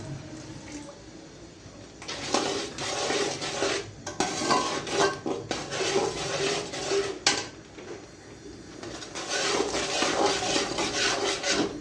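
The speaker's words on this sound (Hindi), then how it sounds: "चमचा हमने साथ साथ चलाते जाना है" Spoon stirring an Aflatoon sweet mixture in a pan, scraping and rubbing continuously in an uneven rhythm with occasional knocks, close and moderately loud.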